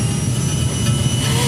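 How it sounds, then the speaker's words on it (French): A diving airplane's jet engine gives off a loud, steady roar with a high whine, filling the short stretch without a break. "l'avion plonge"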